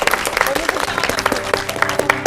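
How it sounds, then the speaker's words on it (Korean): Studio audience applause on a Korean television talk show, a dense steady patter of clapping with voices and faint background music running over it throughout. "박수 한번 드리죠."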